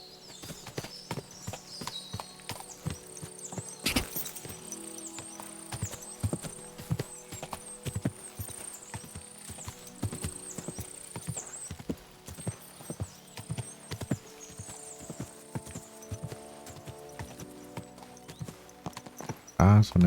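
A rider's horse hooves in Kingdom Come Deliverance 2, a repeated clip-clop of hoofbeats mixed with game ambience and music, with a voice speaking at times.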